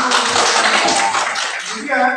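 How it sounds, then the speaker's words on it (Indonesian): Students in a biology classroom applaud after a group presentation, giving a loud, dense wash of clapping from many hands that fades slightly, with a voice speaking near the end. "tepuk tangan."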